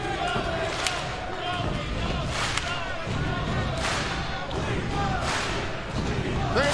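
A sold-out wrestling crowd in San Antonio roars and cheers steadily throughout, a dense wash of voices with several louder swells and occasional sharp impacts, while a commentator's voice sits partly buried in the noise.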